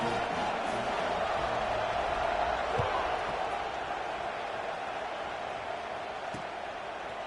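Crowd noise fills a stadium at a college football kickoff between Texas and LSU, a broad, steady roar that swells slightly and then settles, heard from a distance with no distinct voices.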